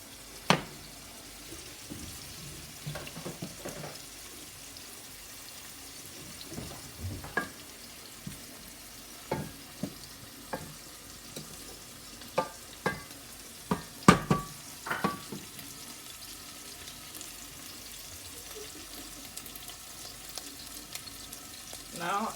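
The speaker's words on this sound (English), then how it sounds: "So I just turned my heat on for the gizzard." Gizzard frying in a pot for a yam and gizzard stew, a steady close sizzle broken by frequent sharp clacks and scrapes of stirring, with no talk.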